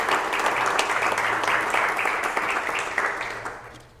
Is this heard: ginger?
no